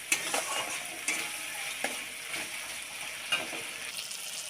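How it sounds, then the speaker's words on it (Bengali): Tomatoes being sautéed in oil in a pan, stirred as they soften, give a steady soft sizzle with occasional scraping clicks of a spoon. "ভালো করে কষিয়ে নিতে হবে টমেটোগুলো পুরো যেন একদম নরম হয়ে গলে যায়"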